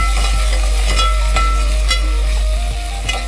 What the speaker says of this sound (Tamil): நல்லா வதக்கி கொடுத்துடலாம்.